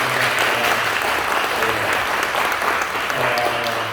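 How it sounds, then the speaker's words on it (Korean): A church congregation at a family worship service on missions applauds loudly and steadily, with a low voice or hum faintly beneath the clapping. "박수하겠습니다."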